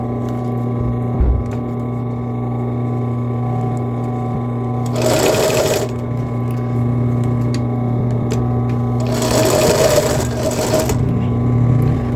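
Sewing machine topstitching elastic on a bra, with two distinct bursts of rapid stitching, one brief and one longer, rising over a steady electrical motor hum in a workroom.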